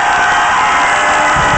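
A large concert crowd yells and cheers loudly on request from the stage, a dense sustained roar of voices filling the whole moment with no gaps.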